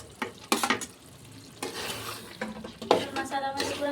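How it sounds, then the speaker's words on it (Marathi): Soaked moong dal being stirred into cooked masala in a pan, giving repeated scraping stirs with a light sizzle and occasional clinks of the spoon against the metal, close and fairly loud with no talking. "तर मसाल्यामध्ये पुढे हलवून घेऊ तिला."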